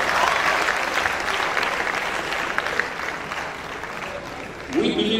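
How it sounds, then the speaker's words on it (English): An audience at a university department's public lecture and fellowship award applauds a Nigerian hip-hop artist. Full steady applause fills the hall, slowly thins toward the end and ends under a voice. "a round of applause for Tiwaba"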